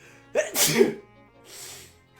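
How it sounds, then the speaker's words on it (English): A single loud, close human sneeze, a sharp burst followed by a softer breathy exhale, with no talk. "I got another sneeze coming"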